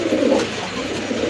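Pigeons coo in a low, soft, continuous murmur, close by and fairly loud, with no voices.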